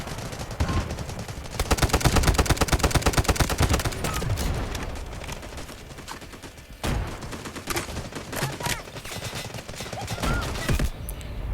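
Gunfire in the shooter game Delta Force rattles in rapid automatic bursts and single shots, loud and close, with dense firefights coming and going in a 24 vs 24 match.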